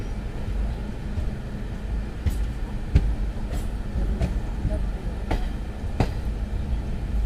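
A train runs past on the adjacent track during a rail journey from Surendranagar to Bhavnagar, a steady loud rumble of wheels with sharp periodic clicks from rail joints, no voices.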